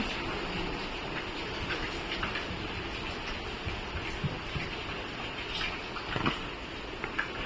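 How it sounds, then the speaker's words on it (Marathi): Heavy monsoon rain falls steadily in the Konkan countryside, a dense continuous hiss and patter with occasional louder drips and ticks, no talking. "बघा पावसाची बॅटिंग चालूच आहे जोरदार"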